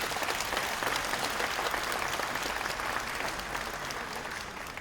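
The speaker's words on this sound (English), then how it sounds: "let's give our warmest applause to Chairman Wang, the founder of BYD" An audience at a BYD press conference during the 2023 IAA Mobility show bursts into loud, dense applause, a continuous crowd clapping that slowly fades toward the end.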